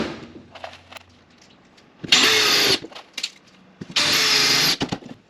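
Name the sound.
power drill driving flat screws into sheeting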